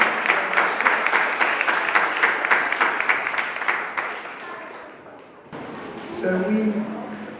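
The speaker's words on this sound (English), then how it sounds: "A big round of applause for Windsor House." A school prize day audience gives a round of applause for Windsor House, dense clapping from many hands that holds steady, then thins and fades before a voice speaks.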